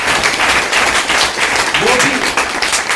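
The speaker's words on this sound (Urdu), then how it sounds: "کے لیے آپ تالیاں بجاؤ گے" An audience applauding at a motivational speech event, dense continuous clapping filling the room at full volume, with some voices mixed in.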